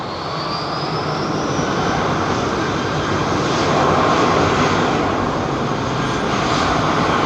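Emirates Airbus A380 jet departing Heathrow, a loud, continuous roar of engines building slightly as it climbs, with a faint high whine over the broad rumble and no talking.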